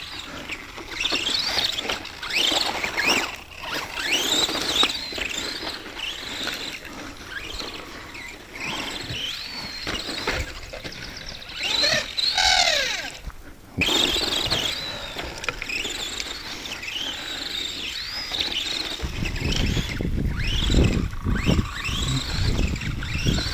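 Arrma Granite RC monster truck racing about and popping wheelies on a fresh battery, a whining electric motor with rising and falling revs over steady outdoor noise, louder rumbling bursts near the end.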